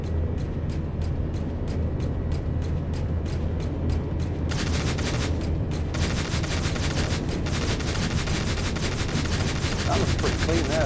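Rockets and weapons firing from a naval vehicle in the video game 1971: Indian Naval Front: a steady rapid train of sharp bursts over a dense, loud engine and combat roar that swells into a heavier barrage partway through.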